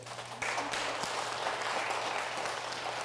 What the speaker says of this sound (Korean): 여러분들 주기 위해서 내가 부자가 돼야 되겠다라고 하시는 분들을 박수 쳐보세요.